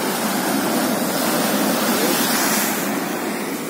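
Steady roar of sea waves crashing on rocks at Perumathura beach, a loud, continuous surf wash with wind-like hiss and no speech.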